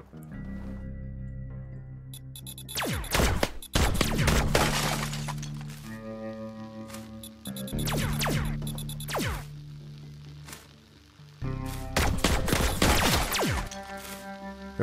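Gunfire in My Time at Sandrock rings out in four loud bursts, each a sharp crack with a crackling, shattering tail, separated by short pauses and set over a background of game music.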